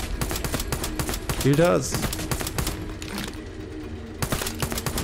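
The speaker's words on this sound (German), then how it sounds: "Schieße auf das Ziel, um schneller zu werden. Ich schieße doch schon." In the video game Fallout 76, a gun fires at a target in a steady, rapid series of sharp shots that runs throughout, with a voice speaking over it.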